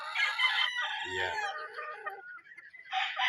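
Farm chickens and roosters being prepared for a livestock expo, crowing and clucking close by in overlapping calls, with a brief spoken word partway through.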